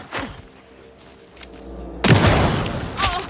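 A gunshot in the PS5 game Alan Wake 2 cracks out as a sharp boom partway through, followed by a loud, dense burst of noisy action that stays near and prominent.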